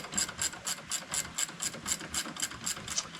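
A hand ratchet turns a brake caliper bolt on a 2022 Can-Am Commander 1000R. It makes close, crisp, evenly spaced clicks, about a dozen in quick regular rhythm, with nothing else heard.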